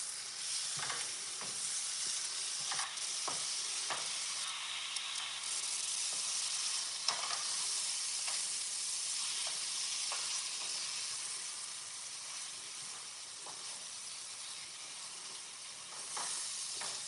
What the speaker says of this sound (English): So right now, I'm going to just stir our tomatoes.